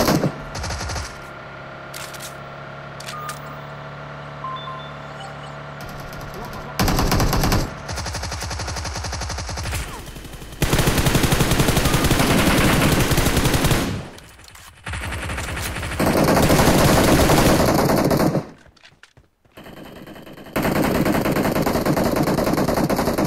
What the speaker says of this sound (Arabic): ضربوا كم طلقة خليهم يوقفوا.